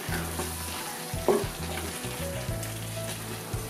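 Chicken frying in a pan with fried onions for Thalassery-style biryani, a close, steady sizzle broken by the scrape and clatter of a spoon stirring it.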